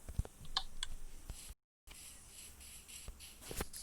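Several dry clicks and taps in a video game, as an elevator lever is operated to choose a floor, with a short gap of silence between bursts over faint background noise.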